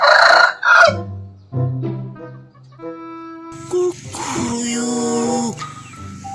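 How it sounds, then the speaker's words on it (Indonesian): A rooster crows loudly and up close in several drawn-out, wavering calls, with short clucks between them. "Wow, ada satu ayam teman-teman."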